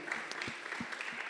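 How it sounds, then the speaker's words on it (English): Audience applause for hip-hop rappers being welcomed at a talk and cypher workshop, a brief, fairly quiet, steady patter of clapping from a small crowd. "Give them a big round of applause."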